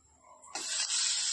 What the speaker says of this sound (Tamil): தோசைக்கல்ல ஆயில் ஸ்ப்ரே பண்ணிக்கலாம்.